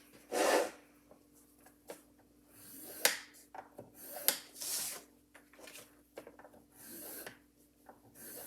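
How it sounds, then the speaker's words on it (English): Paper being scored with a tool on a scoreboard while crafting a Graphic 45 8x6 mini album, heard as a series of short, close scraping rasps spaced irregularly over quiet room tone. "put the short end across the top of our scoreboard, and we're gonna score it 1/2 of an inch."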